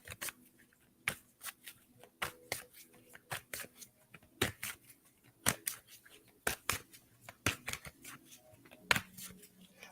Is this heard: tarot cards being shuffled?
yes